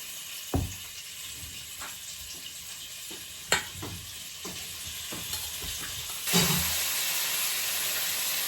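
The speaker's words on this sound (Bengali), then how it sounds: "এই যে এখন মাছগিনি ভেজে নেই" Fish pieces frying in hot oil, a steady sizzle broken by scattered knocks and scrapes of a utensil against the pan, with a louder burst of hissing near the end; no one speaks.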